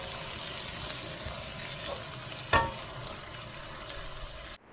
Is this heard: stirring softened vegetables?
yes